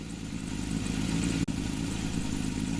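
A Honda CB750, the four-cylinder Japanese classic motorcycle introduced in 1969, runs with a steady, even engine drone at close range, broken by one brief dropout midway, with no voices.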